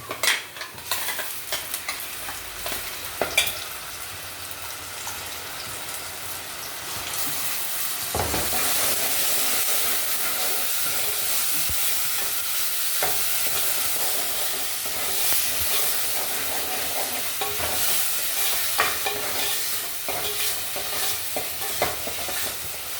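Ground masala fries in a hot pan under a constant loud sizzle, with scraping stirs and spoon knocks breaking through at irregular intervals, close and continuous without any talking.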